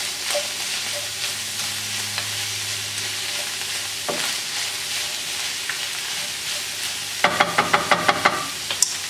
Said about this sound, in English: So now I'll add this in with my ground beef. So in goes the oregano. I'll mix it in.